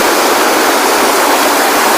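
Gundicha Ghagi waterfall at Harichandanpur roars loud and close, a steady, unbroken rush of falling water with no voices.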